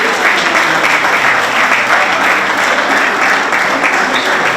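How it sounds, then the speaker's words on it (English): A loud, even round of applause fills a community ribbon-cutting ceremony at the Filipino American Community of Los Angeles, dense clapping sustained without a break. "A round of applause, everybody."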